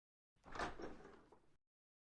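A single door swings open in one brief movement, quiet and close, with no voices around it.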